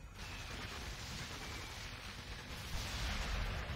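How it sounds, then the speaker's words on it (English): Electricity gun from the game Sanctum 2 firing in a steady, dense crackling buzz with a rough, noisy texture, swelling slightly louder toward the end with no talk over it. "There's my electricity gun."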